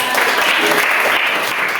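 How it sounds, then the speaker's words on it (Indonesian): A class of students claps together in a classroom, a dense, steady burst of applause filling the room for a couple of seconds with no break. "kita tepuk tangan dulu ya"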